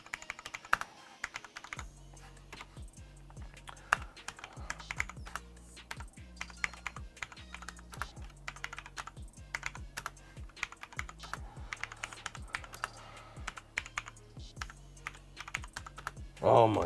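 Steady, fairly fast typing on a Cherry MX Board 1.0 mechanical keyboard, with close, crisp key clicks and clacks in uneven bursts and a brief louder rattle at the end.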